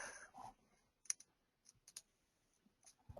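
A handful of soft, scattered keystrokes on a computer keyboard, faint and sparse with pauses between short clusters of clicks, in an otherwise quiet room.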